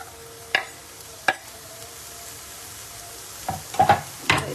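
Chopped peppers and sausage frying in a pan, a quiet steady sizzle punctuated by a few sharp utensil knocks and a cluster of stirring scrapes toward the end; no speech.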